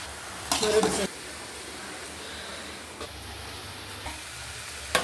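Amaranth greens frying and being stirred in a pan, a steady soft sizzle running throughout with a brief louder burst of stirring near the start, close by and without talk.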